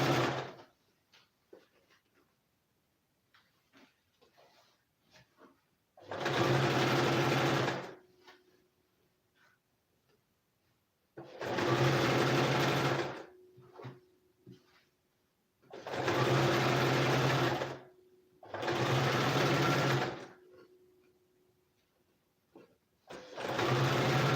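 A sewing machine stitches fabric in steady bursts of a few seconds each, separated by quiet pauses, running at an even, moderately loud whir close to the listener.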